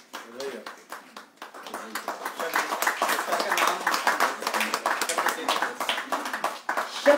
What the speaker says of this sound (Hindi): श्री रूपचंद जी के लिए जोरदार तालियां।